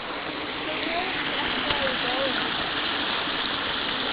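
Creek water pouring over a small waterfall, a continuous loud rushing and splashing that stays steady from start to finish.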